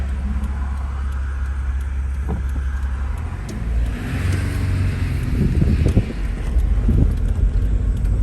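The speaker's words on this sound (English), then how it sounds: "Here comes the car." A car passes on a road while a 1989 Toyota Tacoma SR5 4X4 with a 3.0 V6 idles nearby, the low engine rumble and wind swelling as the vehicle approaches and peaks near the end.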